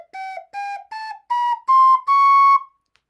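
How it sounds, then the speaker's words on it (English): Ocarina cleared by covering the fipple and blowing hard, giving six short whistling toots that climb in pitch step by step, each louder than the last, the final one held longest, played alone with no talk. "So just do that by covering the fipple and then blowing hard."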